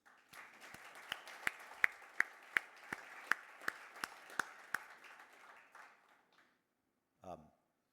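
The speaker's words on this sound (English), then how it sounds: "I'd hope you join me in a round of applause and thanks for all these folks." Applause from an audience at a corporate investor day event, a dense wash of clapping with a few sharp louder claps standing out, fading out after about six seconds.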